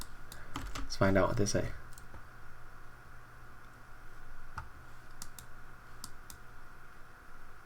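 Fast clicking of a computer keyboard, typing out a Russian message to translate during an online game tournament, a dense burst near the start, then sparse keystrokes under a steady hum, with a voice speaking briefly.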